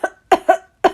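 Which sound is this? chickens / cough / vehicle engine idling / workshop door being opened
cough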